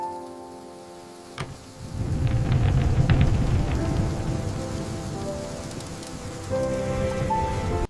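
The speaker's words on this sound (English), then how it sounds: "The rain felt heavy today." Heavy rain pours down steadily onto surfaces after a sharp onset, a dense hiss with scattered drop ticks and a low rumble beneath, staying loud and continuous through the end with no talking.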